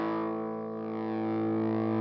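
Guitar through a BOSS TB-2W Tone Bender fuzz pedal running at 9 volts, a single sustained fuzzy chord ringing steadily and fairly quietly for two seconds, no voices.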